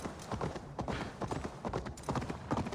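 Horse hooves clip-clop steadily in Assassin's Creed Valhalla, a brisk, even rhythm of close hoofbeats on the ground running without a break.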